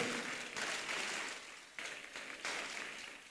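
A church congregation applauds God in bursts of clapping, fairly faint and somewhat distant, with the sound swelling and easing in waves and no talking over it.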